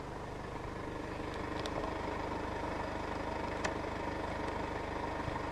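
A 2016 Mercedes-Benz GLC 220 d 4MATIC diesel idles steadily after start-up, a low even engine hum with a faint, constant rumble and no revving.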